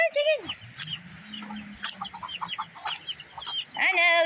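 Chickens cluck and squawk close by in a steady patter of short calls, with a voice at the start and end.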